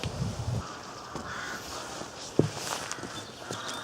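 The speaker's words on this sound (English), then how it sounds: "can you hear all those birds? They're crows up in the tops of the trees" Crows caw from treetops on a cold winter's day beside a walking path, scattered harsh calls at a distance while footsteps crunch nearby and a sharp knock stands out partway through.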